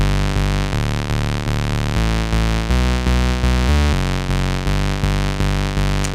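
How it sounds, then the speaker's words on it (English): A gritty, buzzing sawtooth synth bass made in Massive plays a rhythmic line of short repeated notes that shift in pitch, loud and upfront with no voices. "there's something about that really grindy sort of sawtooth wave bass"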